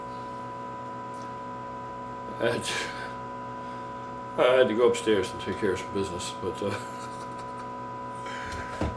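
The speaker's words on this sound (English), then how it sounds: "that is the drone of the well pump" A large well pump drones as a steady low hum with tonal overtones under the whole scene, while someone talks in the foreground and some scratching and handling noises come and go.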